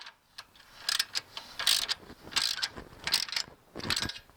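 Bolts on a trailer jack are tightened down snug with a ratchet, giving repeated bursts of quick clicking, each lasting about half a second, close by and with no talking.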